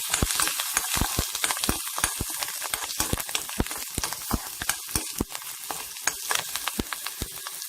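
Green chillies sautéing in a pan make a busy, constant sizzle broken by frequent sharp crackles and spatters, moderately loud and close, with no voices.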